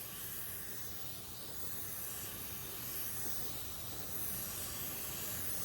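A PRD-815 paint spray gun lays down a coat with fan and fluid wide open, giving a steady, continuous airy hiss that holds level throughout with no talk.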